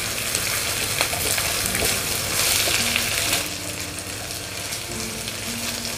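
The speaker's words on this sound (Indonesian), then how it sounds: "Ditumis-tumis lagi sampai semua bahan yang masuk ini mengeluarkan aroma yang" Galangal and bay leaves stir-frying in a pan for green chili pindang, a steady close sizzle with scraping stirs throughout, easing slightly in the second half.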